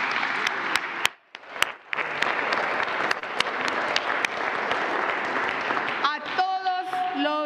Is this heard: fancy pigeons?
no